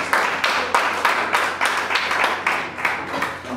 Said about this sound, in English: join with me as we welcome the speaker with a hand clap